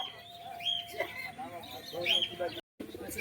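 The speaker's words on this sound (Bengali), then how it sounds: "পায়রাটা একদম গরম আছে ডাক করছে দেখতে পাচ্ছেন" A pigeon coos at Birnagar haat, a village bird market, heard faintly under someone talking close by, with brief higher bird calls mixed in.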